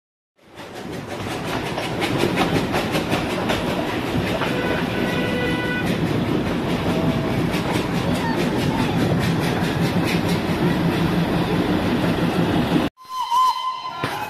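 The Darjeeling steam toy train runs on its rails with a loud, continuous rumble and rhythmic clickety-clack, a steam whistle sounding intermittently, before the noise cuts abruptly near the end and briefly resumes.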